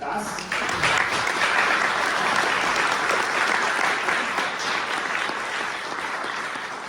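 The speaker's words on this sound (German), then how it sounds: "um einen Applaus bitte" Audience at a charity event in Vienna breaks into sustained applause, a dense wash of many hands clapping that swells quickly and holds steady, tapering slightly toward the end.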